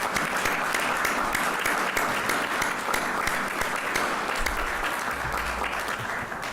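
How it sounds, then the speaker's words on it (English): Sustained audience applause at a live organisation gathering, steady dense clapping filling the whole stretch without a break. "And give a round of applause, please."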